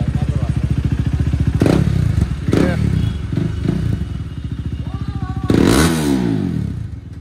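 KTM Duke 390 motorcycle running with no exhaust silencer, a loud, raw, close-up idle with a fast pulsing beat, broken by several sharp throttle blips and one stronger rev that falls back to idle.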